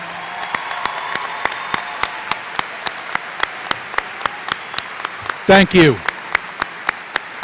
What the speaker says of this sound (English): Please join me in a round of applause to thank these faculty members for all that they do for our students.